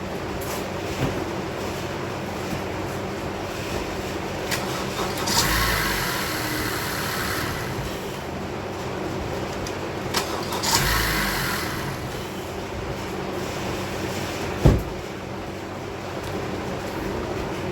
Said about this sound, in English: put a jump box to it, a booster, see if it starts up better